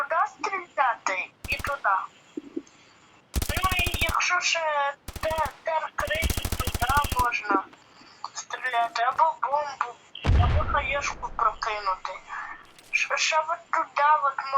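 Bursts of rapid gunfire crackle in short volleys between stretches of people talking over a radio-like voice channel, with one deep boom partway through.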